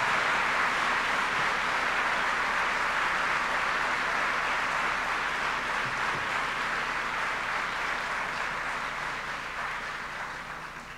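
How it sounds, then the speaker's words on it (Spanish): A large audience gives a sustained round of applause to welcome Michelle Bachelet at an academic year opening ceremony, a dense, even wash of clapping that tapers off near the end. "a quien yo le voy a pedir aquí como comunidad un aplauso para recibirla a nuestra presidenta"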